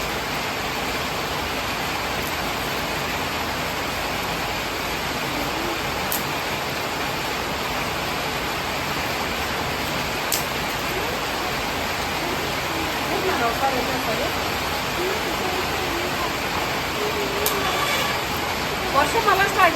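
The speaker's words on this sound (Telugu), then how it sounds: "వర్షం మళ్ళీ స్టార్ట్ అయిందండి." Rain is falling again, a steady broadband hiss that runs on continuously, with slight swells toward the end.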